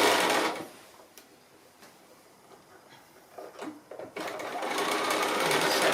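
A sewing machine runs a holding stitch about an eighth of an inch in along the edge of fabric for a cutlery pocket, whirring loudly in bursts at the start and end with a quieter pause between.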